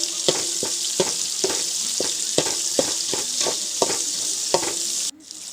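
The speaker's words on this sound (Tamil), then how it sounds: "வரமிளகா போட்டு அதை மிக்ஸ் பண்ணி நல்லா ஓரளவு லைட்டு ப்ரௌன் கலர் வர மாதிரி, கோல்டன் ப்ரௌன் வர மாதிரி வளர்த்துக்கோங்க" Dried red chillies frying in oil for onion rasam, a bright continuous sizzle punctuated by about a dozen regular spatula taps against the pan, close and loud, ending in a sudden drop.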